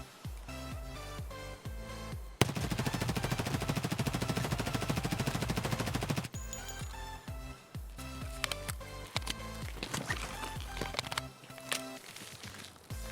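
A modded MP5 firing in Escape from Tarkov, in a steady automatic burst of several seconds, set among shorter bursts and single shots before and after, loud and close with no talk.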